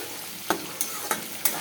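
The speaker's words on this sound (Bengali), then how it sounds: "মাংসটা ভাজা ভাজা দিতে হবে, মশলা কষাবো।" Meat and spice paste frying in a pan, a close, loud sizzle broken by four sharp scraping stirs spaced evenly about every third of a second, with no one talking.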